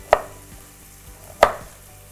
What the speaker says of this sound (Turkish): Ucunu tıraşladım. Ucundan kurtuldum. Yine böyle doğradım.